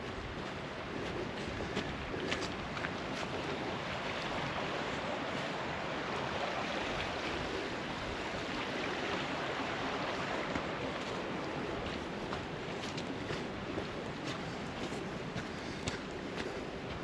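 Big Sucker Creek flows steadily beside a muddy trail, a constant broad wash of rushing water that stays even throughout.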